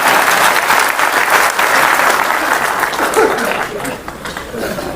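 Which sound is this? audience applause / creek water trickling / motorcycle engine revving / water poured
audience applause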